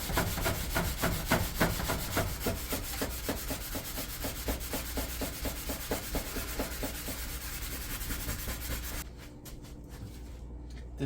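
Sponge scrubbing a kitchen stove, a fast, steady back-and-forth rubbing close by that keeps going for several seconds before easing off near the end.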